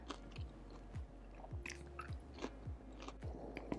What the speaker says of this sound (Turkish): Şimdi hemen tadına bakacağım. Çıtır çıtır.